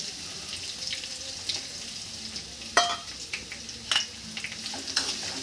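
Small shallots fry in a hot pan with a steady sizzle, broken by sharp scraping clicks of a spatula being stirred through them now and then; no one speaks.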